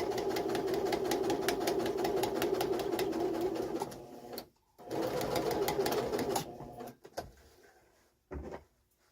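A sewing machine stitches a curtain panel for pinch pleat curtains in a fast, continuous whir for about four seconds, then runs in a few shorter bursts separated by brief pauses. No one speaks.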